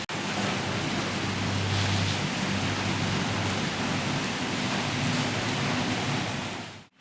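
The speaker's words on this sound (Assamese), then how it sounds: "এনেকৈতো বৰষুণ চাগে নেদেখি মই দেখুৱাই আছোঁ বৰষুণ" Steady, heavy rain falls on a morning that turned wet after sunshine, giving a continuous close hiss of drops striking surfaces that lasts the whole stretch with no voices.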